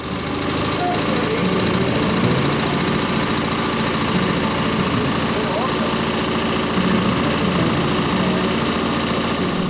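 A railcar speeder's engine runs rough on one cylinder with a suspected spark plug fault, a loud, steady, uneven chugging and knocking that fills the whole stretch with continuous mechanical clatter.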